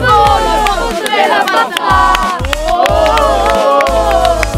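Fans of MSP Calcio cheer and chant at an amateur Promozione football match, a loud, dense crowd roar with rising and falling voices and whoops sustained throughout.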